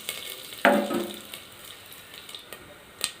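Spices crackle and sizzle as they hit two spoons of hot oil in a heated pressure cooker, a sudden loud burst of frying that settles into a steady, softer sizzle with a few faint pops.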